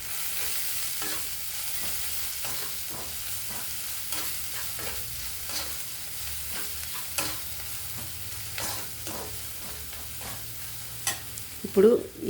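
Onions frying lightly in a pan with continuous sizzling and regular scraping stir strokes, close and steady, with a louder clatter at the end and no talking.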